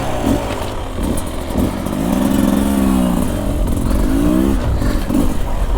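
A 2024 Beta 300 RR motorcycle engine revs up close and loud, its pitch rising and falling across several throttle blips, with rattly mechanical clatter around it.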